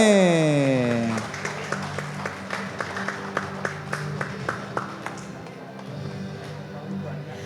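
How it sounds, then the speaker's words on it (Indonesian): An audience at a city public service mall anniversary ceremony claps for the civil registry office, a broad wash of applause that starts over a fading musical tone and then thins into scattered claps. "Tepuk tangan dulu untuk Dinas Kependudukan dan Pencatatan Sipil."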